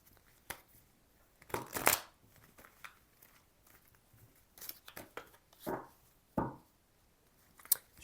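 Oracle cards are shuffled by hand in short, separated riffling bursts, close and fairly quiet, with pauses between each handful.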